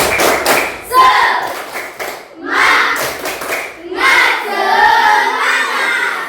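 A school class performs the 'tepuk semangat' rhythmic clap, with bursts of loud patterned hand claps and thumps in repeated groups, mixed with children's voices chanting and shouting along.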